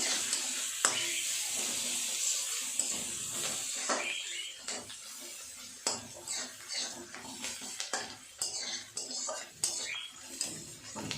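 Chopped onions fry in a pan with dried red chilli, cumin and bay leaf, a steady close hiss and sizzle broken by occasional clinks and scrapes of a spatula against the pan.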